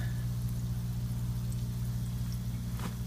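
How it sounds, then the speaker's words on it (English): Water released from a backup reservoir tops off a hydroponic system, making a steady, continuous rushing flow over a low mechanical hum for the whole stretch, with no voices. "when the water goes down, you can see it there, water gets released into the system and tops it off"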